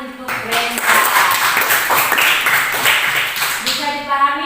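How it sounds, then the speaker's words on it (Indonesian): A classroom of students claps for a classmate, a dense burst of applause running throughout, with voices mixed in near the end. "tepuk tangan untuk Brenda"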